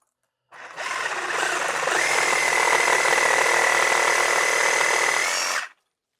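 A reciprocating saw fitted with a Japanese-tooth blade cuts through a 1.5-inch branch of hard oak, a loud steady buzzing whine that starts abruptly, holds for about five seconds and then stops.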